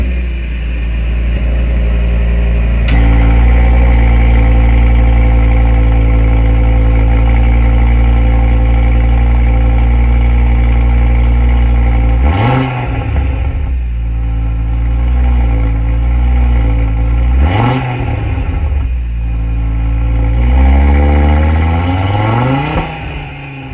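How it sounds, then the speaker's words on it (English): A 2024 Audi RS3 idles with a deep, loud exhaust burble, then revs hard three times in sharp rising bursts that fall back to idle. It is heard close up with no talk. "this car sounds amazing with those exhausts at the back."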